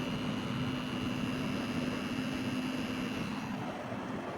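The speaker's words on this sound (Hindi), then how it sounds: "ये जो सी आपको घूम घूम की आवाज़ आ रही है ना, वो फ़ैन है बीच में" A cooling fan inside a homemade UPS whirs as a continuous, fairly quiet drone with a faint steady hum, with no voices over it.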